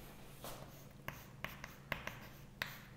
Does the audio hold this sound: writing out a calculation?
yes